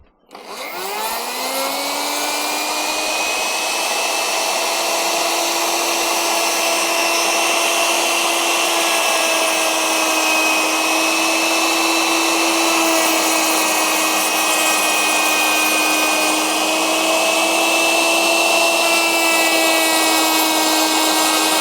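A wood router cutting timber runs as a steady, loud, high-pitched motor whine that spins up at the start and holds an even tone throughout, with no voices.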